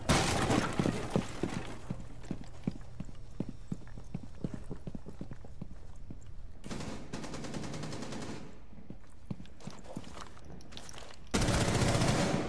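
Rapid gunfire rattles in a video game shooter, a dense run of sharp close shots that thins into scattered bursts, then loud automatic fire breaks out again in two stretches. No one talks.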